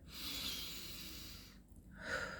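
A slow, deep breath drawn in and released during a calming practice, a soft airy rush heard close and alone, fading briefly before a second breathy swell.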